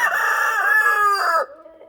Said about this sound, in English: That is my Benny, the rooster, saying hello to everybody.